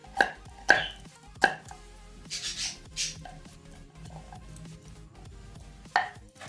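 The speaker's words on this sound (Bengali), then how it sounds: "এবার ছুরির সাহায্যে গোল গোল করে প্রথমে কেটে নিচ্ছি।" Knife chopping peeled beetroot and carrot into round slices on a board, with several sharp, close knocks spaced unevenly alongside quieter scraping and handling of the vegetables.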